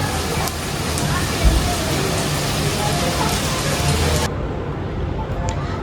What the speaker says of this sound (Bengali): ঝেপে বৃষ্টি হচ্ছে